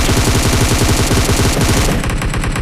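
Rapid automatic gunfire rattles from a mobile battle royale game, a loud continuous burst of shots that breaks off near the end, with no voices.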